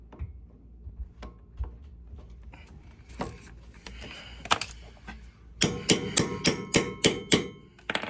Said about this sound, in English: All I'm tapping on the ratchet or the extension for is to make sure that the Allen head is seated in the Allen bolt